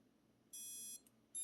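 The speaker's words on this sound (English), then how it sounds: "you can hear that beep beep on the tail end" The tail-motor output of an RC Era C189 2-in-1 ESC sounds high, thin electronic beeps. A half-second beep, then a tiny blip, then another beep, all over a quiet, faint background.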